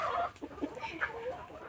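Rhode Island Red laying hens cluck softly in a backyard farm coop, a few short, uneven clucks rising over low rustling ambience, close but quiet.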